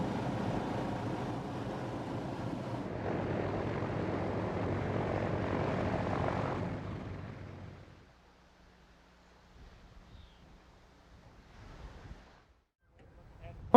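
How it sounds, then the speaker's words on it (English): Big round radial engines of a flying boat droning loudly and steadily for several seconds, then fading away, leaving faint background sounds. "These big old round engines really bark."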